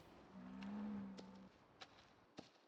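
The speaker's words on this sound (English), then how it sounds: "Oh, look at that crazy looking cow." A cow in the video game Project Zomboid lets out a single low, sustained moo lasting about a second, followed by a couple of faint clicks, with no one talking.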